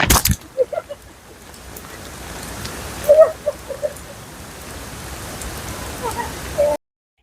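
Rain falls steadily at the Thenmala lookout, a continuous soft hiss with a few faint voices and brief knocks over it before cutting off abruptly.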